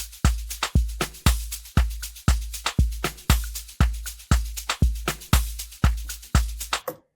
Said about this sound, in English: okay, we have a top loop. It sounds like this.